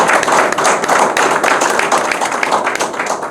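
An audience at a press conference claps steadily and loudly for a few seconds. The applause is close, dense and irregular, with no voices over it.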